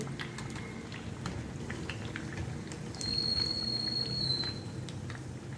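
Potatoes fry in hot oil with a steady, soft crackling sizzle while the crispy pieces are lifted out, and the sizzle swells slightly partway through.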